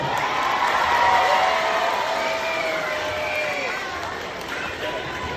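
An audience at a keynote speech cheers and claps in a broad, sustained roar with whoops, loud at first and slowly easing off.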